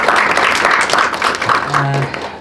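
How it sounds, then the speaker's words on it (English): An audience at a Tibet awareness talk bursts into a short round of applause, the clapping fairly close and full, with a voice briefly heard beneath it toward the end. "can we have a big round of applause to Dr."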